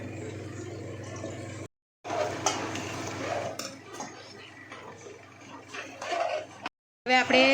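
A spoon stirs boiled peas into thick gravy in a metal pan, with clattering scrapes and knocks against the pan under a person talking, broken by two short silences.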